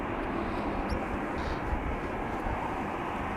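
Loud, steady jet engine roar from airplanes departing on parallel runways at Amsterdam Schiphol Airport, a broad continuous rumble that holds evenly throughout.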